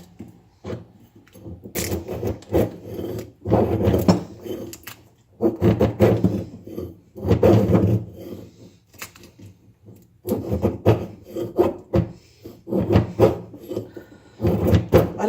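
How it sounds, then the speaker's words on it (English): Feather sticks are carved from wood with a mossy oak Bowie knife: repeated rasping, scraping strokes come in bursts of a second or two with short pauses between, close up. "so now we're going to do some feather sticking"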